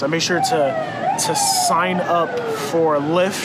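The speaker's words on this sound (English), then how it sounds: "sorry about the sirens" Emergency vehicle sirens wail outside, rising and falling steadily throughout while someone talks over them close by.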